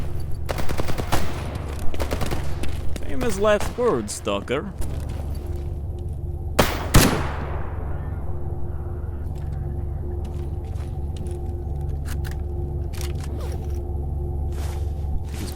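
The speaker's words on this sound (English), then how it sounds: "And then gunfire immediately breaks out." Gunfire breaks out in the modded shooter S.T.A.L.K.E.R. G.A.M.M.A., with bursts of rapid shots and a loud crack midway over a low in-game rumble, while someone talks over the action.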